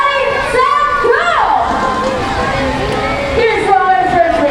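Children cheer and shout loudly at a sea lion ring race show, their excited cries rising and falling in a continuous crowd noise mixed with babbling voices.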